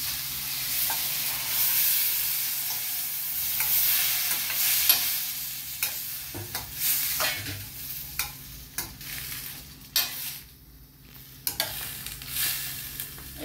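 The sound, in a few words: stirring ghugni peas frying in a pan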